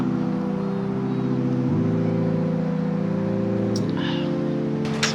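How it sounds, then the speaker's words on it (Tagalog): Steady traffic drone in Osaka, Japan, a constant low engine hum with shifting tones as vehicles move past, with faint clicks near the end. "Puro sasakyan kasi maririnig mo dito agad eh."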